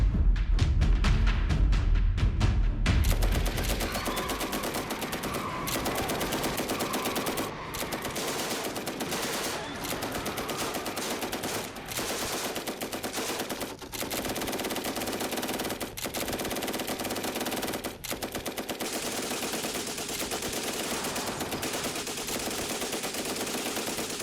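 Dense, continuous machine-gun and rifle fire from an ambush, light automatic weapons and small arms hammering together at close range, with a loud blast at the start followed by a sustained, unbroken roar of gunfire.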